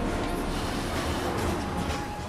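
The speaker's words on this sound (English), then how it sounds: "Miss this train and there's no telling when the next will be." Train at a station in Final Fantasy VII Remake, a steady low rumbling hum with broadband hiss, continuous and fairly quiet, with no voices.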